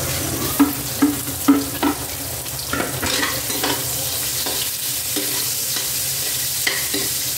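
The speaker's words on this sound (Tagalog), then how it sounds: "Palabasin na natin guys yung kaluluwa na itong bawang natin bago natin ilagay yung sibuyas." Garlic sautéing in hot oil in a pan ahead of onions for a chicken curry, a loud continuous sizzle with a few early spoon knocks and repeated stirring scrapes throughout.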